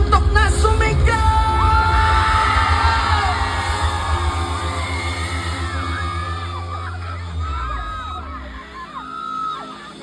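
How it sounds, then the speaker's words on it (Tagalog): Concert crowd at a live show in Biñan City yelling, whooping and cheering loudly and continuously over amplified music, the roar gradually easing toward the end with a brief swell near the close. "Come on, Binyan, lahat ng inaantok na sumigaw!"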